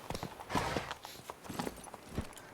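Hooves of Roach, Geralt's horse in The Witcher 3: Blood and Wine, clip-clopping in an irregular trotting rhythm, moderately close and fairly quiet.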